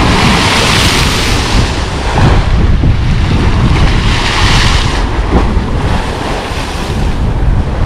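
Large sea waves break and surge continuously on a beach, loud and close, with strong wind buffeting the microphone throughout and no voices.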